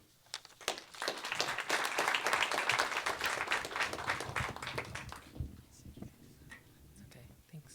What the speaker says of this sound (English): give a round of applause to our first storyteller, Simon.